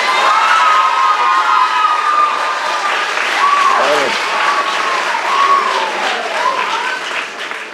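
A school audience gathered for a spring athletics awards event applauds and cheers steadily throughout, with children's shouts and whoops rising above a dense, continuous wash of clapping.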